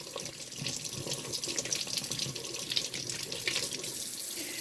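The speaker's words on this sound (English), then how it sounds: "Rinse her out again." An acrylic paint brush is rinsed under a running tap, a soft, steady hiss of flowing water with faint splashing, close and alone.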